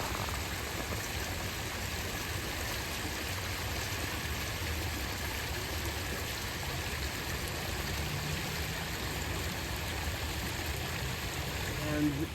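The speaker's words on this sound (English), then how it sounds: "The sound of the water." A small woodland creek flowing, a steady broad rushing and splashing that holds constant throughout at moderate closeness, with no talking.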